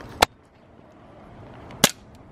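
A toy gun fired outdoors at a cactus, two sharp snapping shots about a second and a half apart, loud and close over faint background noise.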